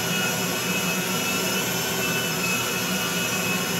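Jet airliner engine in the video game GTA V, sustained loud broadband roar with a steady high whine while the plane reverses, unbroken and alone for the whole stretch.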